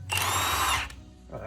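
An impact driver with an extension fastens a Torx bolt while installing an adapter on a Nissan S13, one loud close burst of under a second followed by a short quieter whir.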